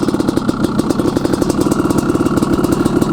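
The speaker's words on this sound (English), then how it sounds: "These colder temperatures got me revving a little higher than normal." A Honda CR500AF motorcycle engine revs high in cold weather at a lake, a loud, steady, rapid throbbing pulse that holds for about three seconds with no talking.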